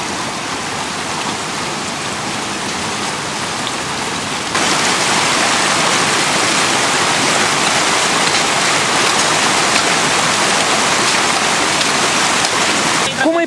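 Floodwater from a cloudburst pours down in cascades in Cicârlău, Maramureș, a loud, steady broadband roar that jumps in level partway through and then holds.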